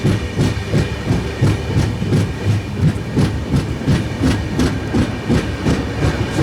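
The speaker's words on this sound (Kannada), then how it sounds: "ರೈಲ್ವೆ ಸ್ಟೇಷನ್ಗೆ ಎಂಟ್ರ್ ಆಗುತ್ತೆ ನೋಡ್ರಿ" The Hampi Express, Hubballi to Bengaluru service 16591, rolls into a railway station with a loud, close rhythmic clickety-clack of wheels over rail joints, repeating steadily under a low engine rumble.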